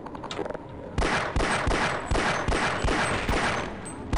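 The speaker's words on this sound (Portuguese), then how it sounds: "Não sei como é que eu falhei os tiros todos." A rapid burst of loud gunfire in the game Half-Life, evenly spaced shots cracking one after another with a synthetic, game-like punch, no voices.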